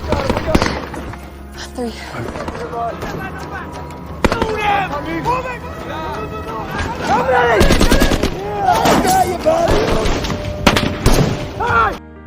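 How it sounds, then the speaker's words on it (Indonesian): Gunfire in a war movie scene about a rescue mission: bursts of rapid automatic fire and scattered single shots, loud and close, mixed with shouting voices and rising in intensity toward the end. "Rekannya berhasil menembak salah satu bandit di sana dan berhasil mengecohnya."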